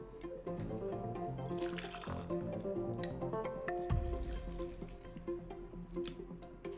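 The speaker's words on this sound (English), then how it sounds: "I have my 2 lemons, and then I'm going to just put the juice right in the marinade." Juice from two lemons is squeezed into a potato marinade, giving soft wet squishing and faint dripping, with a brief splashy trickle midway, all quiet and close.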